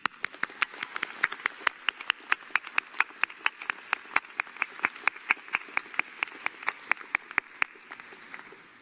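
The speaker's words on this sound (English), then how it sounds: "we will do a group round of applause now for our amazing graduates" Applause for graduates at a civil and environmental engineering graduation celebration, thin and sparse with distinct individual claps in a quick, steady rhythm rather than a dense roar, moderately close.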